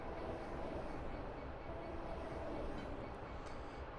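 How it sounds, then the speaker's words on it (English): Another train passing on a suburban rail line near Glasgow and Airdrie, a steady, fairly quiet rumble of rolling wagons heard from inside a cab. "There's another train coming by."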